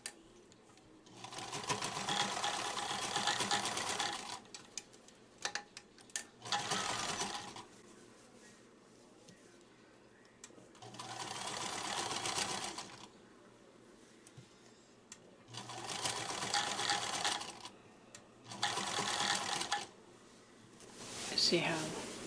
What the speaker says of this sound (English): so that I can sew it on the sewing machine.